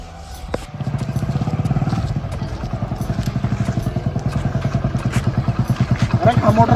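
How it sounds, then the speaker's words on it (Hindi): A motorcycle engine idles and pulls up close by in a rural Rajasthani village setting, its steady low chugging pulse running throughout after a single sharp thud near the start. "अरे कहाँ मोटरसाइकिल लिया डोला तू?"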